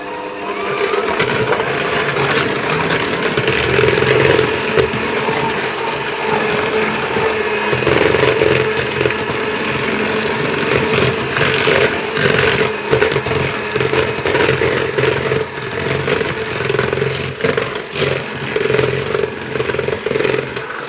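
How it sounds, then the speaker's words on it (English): Electric hand mixer whirring continuously as it creams soft butter and sugar, a loud, steady motor drone with slight wavering pitch and occasional rattling against the bowl. "And I'll cream those together using my hand mixer"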